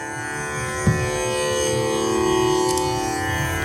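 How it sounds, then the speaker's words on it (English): Tampura drone played from an iPhone app, a steady sustained buzzing tone holding constant throughout with a soft pluck near the start. "So this is the sound of tampura."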